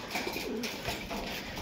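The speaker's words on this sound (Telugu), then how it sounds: "బర్డ్ మన దగ్గరకు వచ్చింది" A racing homer pigeon coos softly after landing at its loft following a 400 km race, brief low coos set against steady outdoor background noise.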